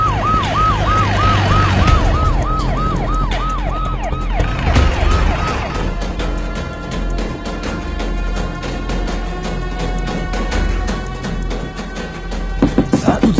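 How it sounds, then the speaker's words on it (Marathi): A police siren wails in repeated rising and falling sweeps, loud at first, then fading into dense traffic and street noise with horn-like tones and clatter. "ते पोलीस सायरनचा आवाज आला"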